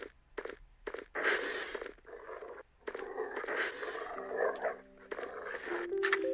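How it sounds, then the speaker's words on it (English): Dogs bark in the horror game Heaven Dust 2, with several loud, close barks in bursts broken by short pauses, over faint game ambience and a low tone. "Man, if there's nothing I love more than hearing those dogs"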